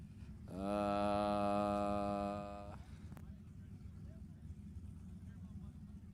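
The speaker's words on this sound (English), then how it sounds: "Big old turbo hanging off of the 427 cubic inch LSX" A turbocharged 427 cubic inch LSX drag race car engine gives a loud, tonal, rising drone at a race track for about two seconds, then cuts off, leaving a steady background rumble, with an announcer talking.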